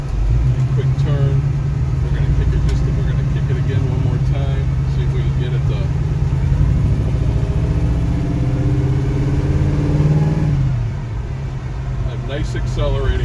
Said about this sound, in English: Accelerating, very smooth car, goes down the road nicely.